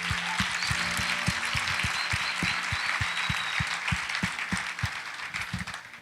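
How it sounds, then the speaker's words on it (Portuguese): Warm applause from a church congregation honoring volunteers, many hands clapping steadily over several seconds, with a few sharper individual claps standing out near the front and a faint musical hum underneath. "Vamos dar uma salva de palmas para essa galera."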